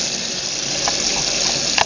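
Cold tap water runs steadily over food sitting in a kitchen strainer, a continuous close splashing wash with brief brighter spatters near the end.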